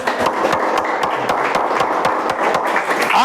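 Church congregation clapping together in a steady, fairly fast rhythmic beat, many hands at once, moderately loud and continuous, with no speech over it.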